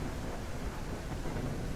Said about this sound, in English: A decent rain effect there.